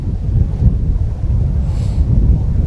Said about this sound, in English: wind's blowing into us left to right